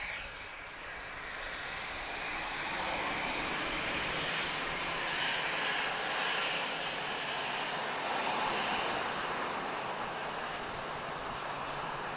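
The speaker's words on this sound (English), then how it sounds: "Who's this 737? Oh, Air Europa, okay." An Air Europa Boeing 737 on approach to Lisbon Airport roars steadily overhead as a broad, loud jet rumble that swells after the first couple of seconds and holds for about twelve seconds, with no voices.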